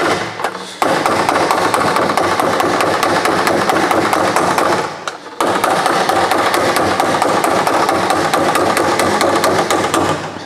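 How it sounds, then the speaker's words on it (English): Steel box section with roughly 5mm walls takes a flange hammered down onto it: loud, rapid metallic blows close by in a dense, continuous run, with a brief pause near five seconds before the pounding resumes. "I should be able to hammer the worst of that crease out."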